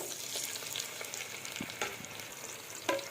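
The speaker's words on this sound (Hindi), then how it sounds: "प्याज को मैं इसके साथ ही फ्राई करूँगी।" Onions frying in hot oil with cumin for a potato and pea curry, a steady close sizzle with soft crackles and a couple of brief stirring clinks, no voices.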